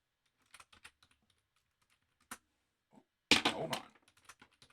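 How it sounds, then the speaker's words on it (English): Typing on a computer keyboard: scattered light key clicks in small bursts, then a louder quick flurry of keystrokes followed by a few sparse taps, quiet and close with no talking. "Let's go ahead and type that in."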